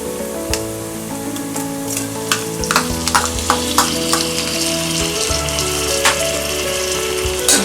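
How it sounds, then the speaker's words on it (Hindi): Tomatoes tipped into softened onions frying for jowar (sorghum) pulao give a steady sizzle, with repeated scraping stir strokes and a clack of the spoon against the pan over soft background music. "अब हम इसमें डालेंगे ये टमाटर,"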